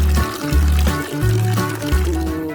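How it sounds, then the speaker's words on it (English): Juice mixture poured into a peel bag for making jelly in a home kitchen, a continuous loud, gurgling pour with bubbling surges close to the mic. "Let's pour the mixture into the peel bag."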